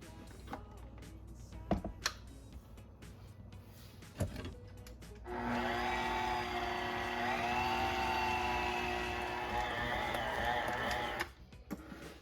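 A dough machine kneads bread dough for a pesto and cheese stuffed loaf, starting suddenly as a steady, loud mechanical whir with a whining motor hum that runs unbroken for several seconds before stopping abruptly.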